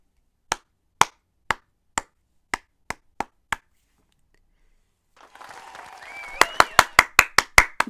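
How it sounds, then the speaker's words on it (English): Sparse, crisp claps in a slow, evenly spaced series fill a Fate/Grand Order game scene, then after a soft chattering pause a faster burst of several sharp claps follows. "I believe a round of applause is in order."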